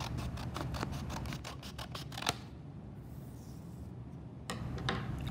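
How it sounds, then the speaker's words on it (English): Scissors snip through folded paper to trim off a small overhanging bottom edge, heard as a quick run of close, crisp cuts followed by quieter rustling and one more snip near the end. "you'll need your scissors, and we're just gonna get rid of this little bottom part that's hanging off the end here."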